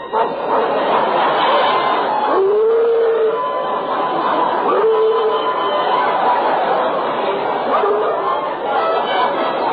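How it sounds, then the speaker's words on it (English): A dog barks in an old-time radio comedy broadcast, a couple of short yelping barks amid chattering, laughing voices, all sounding narrow and dated like an old recording. "That's the dog."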